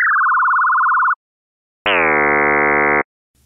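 A synthesizer's sine wave frequency-modulated by another sine wave, octave raised: a steady warbling tone for about a second, a pause, then a brighter sustained buzzy tone, loud and clean with no talking.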